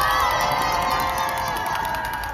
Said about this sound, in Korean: 모두를 위해 박수! 박수!